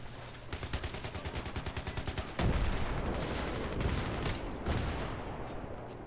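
Rapid automatic gunfire in Battlefield 3 on the Operation Metro map, a fast rhythmic burst followed by a heavy blast and dense continuous firing, loud and close.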